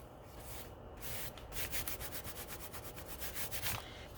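Fingers rub a paper napkin down onto a glued art journal page, making soft, quiet, repeated brushing strokes with a papery scratch, close and alone with no talking.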